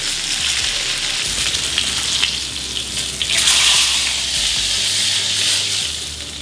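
A steak sizzles loudly in butter with crushed garlic cloves in a cast iron skillet as butter is spooned over it. The hiss is close, continuous and hissing, swelling slightly midway, with no voices.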